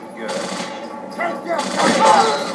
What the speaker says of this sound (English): we're going to just really quickly shoot this guy